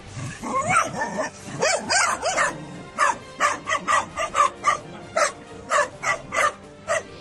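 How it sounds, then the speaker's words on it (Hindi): Several dogs bark in quick, rhythmic bursts while surrounding a cornered animal outdoors, the loud barks coming one after another with a few yips and growls mixed in. "कुत्तों ने उनकी ऐसी घेराबंदी की है कि निकलकर भाग ही नहीं पा रहा और न ही उन पर हमला कर पा रहा है।"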